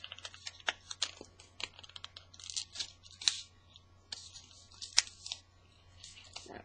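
Tape being pulled, torn and pressed down while a mini album is assembled, a close series of sharp little rips and taps in an irregular rhythm, quiet overall.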